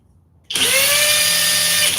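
A Milwaukee or Flex power drill on speed 2 with turbo, about 2,500 RPM, kicks in abruptly after a brief quiet moment and runs at a steady high-pitched whine until the end, loud and close.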